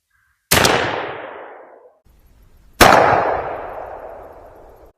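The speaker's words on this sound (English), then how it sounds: "we're going to shoot these Remington Express at that and see how they pattern." Two loud, close shotgun blasts from a Stevens 301 with an extra full choke firing Remington Express XLR #4 shot loads from a 3-inch chamber at a target 20 yards away, each sharp crack followed by a long decaying echo, spaced about two seconds apart.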